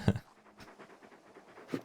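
Torgal, a large dog in the Final Fantasy XVI video game, pants softly in a short, quiet stretch of breathing, faint and close, with no talk.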